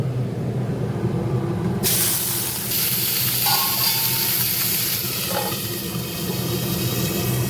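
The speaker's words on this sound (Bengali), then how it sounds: "এবার ছোট মাছগুলো টকের মাছগুলো ভাজবো" Small sour-dish fish sizzle in a frying pan after the larger ones are done, a steady loud hiss with crackling spatter starting abruptly partway and continuing without a break.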